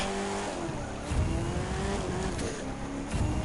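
Car tires skid and squeal during a drift in The Crew 2 racing game on a Muscle Tour course, a steady loud screech over engine roar that continues throughout.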